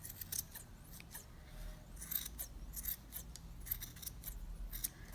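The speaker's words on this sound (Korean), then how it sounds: "동그랗게 원을 만들면서 계속 잘라주죠" Scissors snip repeatedly at a yarn pom-pom being trimmed round, giving quiet, close, irregular crisp cuts over a low background hum.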